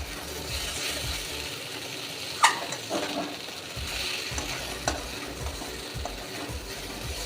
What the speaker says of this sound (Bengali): এবার এঁচোড়টা দিয়ে আর একটু ভালো করে কষিয়ে নেব